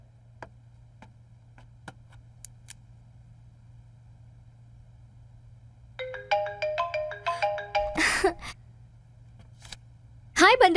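A mobile phone ringtone plays a bright, rapid melodic pattern for about two seconds over a steady low hum, followed by a sharp burst of noise and brief voices, in a Hindi-dubbed action film.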